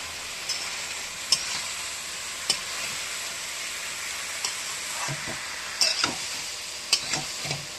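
Banana flower being stir-fried in a pan as a vegetarian mocha dish: a steady sizzle with occasional scrapes and clinks of the spatula stirring.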